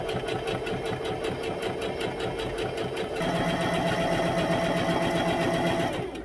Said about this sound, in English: The tiniest edge stitch is what I'm aiming for, probably like 1/16th of an inch.